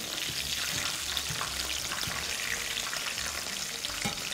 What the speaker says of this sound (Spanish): lo que pasa es que las voy a freír un poquito porque después las voy a echar en el caldo